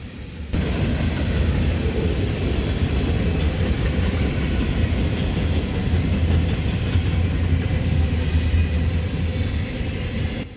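A Union Pacific freight train led by several locomotives, among them an older AC4400CW, rolls past near Albany, Oregon, with a loud, steady rumble and rattle that holds for about ten seconds, and no one speaks.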